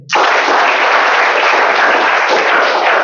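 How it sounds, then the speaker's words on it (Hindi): Loud, dense applause from a hall full of polytechnic college students at a motivational talk, starting abruptly and holding steady and close for the whole stretch. "एक बार जोर से ताली बजाइए."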